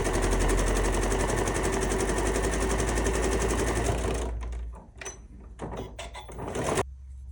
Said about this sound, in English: keep this out of the way of your sewing machine as you sew